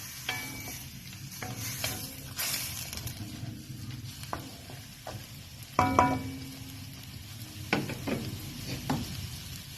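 Squid adobo with a splash of soy sauce sizzles quietly in a pan while a utensil stirs it, giving scattered scraping knocks and clicks over a low, steady frying hiss, close by and free of talk.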